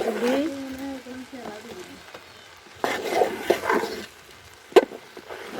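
Khichuri being stirred in a pot over a gas stove: scraping, knocking stir strokes with a wooden utensil, close by, with a voice talking over the first part and a sharp clack near the end.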